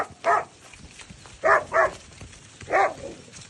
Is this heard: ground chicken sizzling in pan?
no